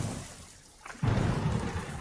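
Rain patters steadily, then a sudden low rumble of thunder swells up partway through and lingers under the rain, fairly loud and close, with no voices.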